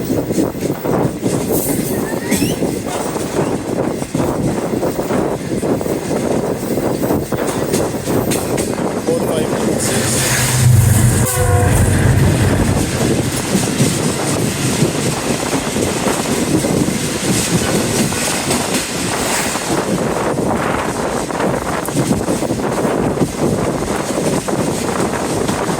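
The Mehran Express passenger train, led by an HGM U30 locomotive, approaches just before Landhi with a loud, wind-buffeted rumble and a brief horn blast midway.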